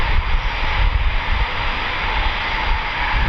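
An RAF Typhoon FGR4 jet taking off at RAF Coningsby, a loud, steady, broadband engine roar that fills the whole moment without letting up, no voices.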